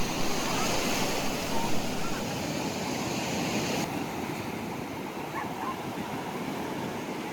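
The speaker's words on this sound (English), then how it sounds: "The Atlantic Ocean stretches endlessly towards the horizon while waves roll onto the shore." Atlantic Ocean waves roll steadily onto a beach, a continuous broadband wash of surf with some wind noise on the microphone, sustained at an even level without pause.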